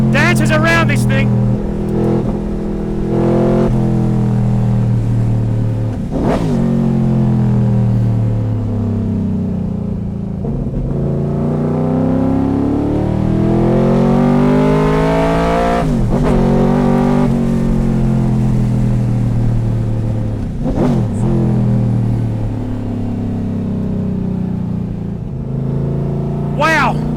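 A powerful, fast car engine drones and revs continuously, rising and falling in pitch as it accelerates and eases off, close and loud throughout, with a person talking over it.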